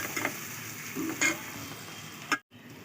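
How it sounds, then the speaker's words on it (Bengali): Spice masala being stir-fried in a pan for a chicken dish, a soft sizzle with a few quiet scraping stirs and a brief clatter near the end, no talk. "এইবার মশলাটা পুরো কষে গেছে"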